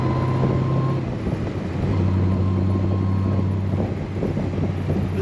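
A 1932 Ford Roadster street rod drones steadily from inside the car with heavy wind rush, its engine note dropping as it shifts into fifth gear and then settling into a lower cruising hum.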